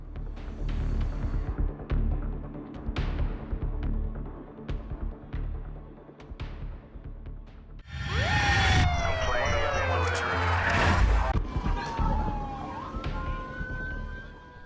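An emergency vehicle siren sounds amid traffic noise, first sharp intermittent bursts, then a loud wailing sweep that rises and falls before fading.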